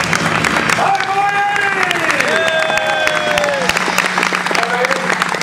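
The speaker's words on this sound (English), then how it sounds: "Big round of applause" An audience at a live horror makeup show claps and cheers loudly and continuously, with whoops and shouting voices rising over the dense applause.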